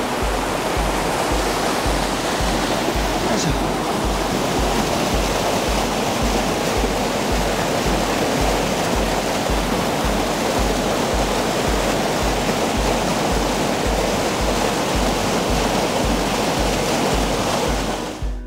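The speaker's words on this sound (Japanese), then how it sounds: "こんな滝の真横で撮影ができます" A waterfall roars right beside the camera, a loud, dense, continuous rush of falling water that fills the whole clip, with a brief voiced grunt early on.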